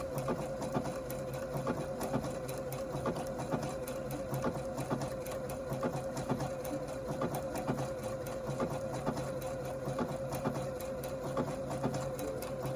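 A sewing machine runs a decorative stitch nearby with a fast, steady mechanical whirring and regular rhythmic clatter that rises and falls slightly over several seconds.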